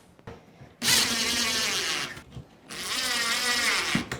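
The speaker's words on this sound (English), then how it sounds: "Now I can put the rest of these screws in." Power screwdriver driving screws into a ready-to-assemble kitchen cabinet, two sustained whirring bursts of about a second each, close and loud, separated by brief pauses with light handling noise.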